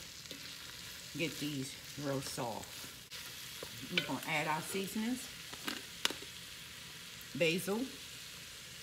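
Vegetables sizzle and fry in olive oil in a pan as they are stirred, a steady soft crackle beneath a voice talking through the cooking.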